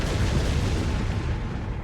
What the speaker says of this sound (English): Follow me. Yes, follow me into the cannon fire.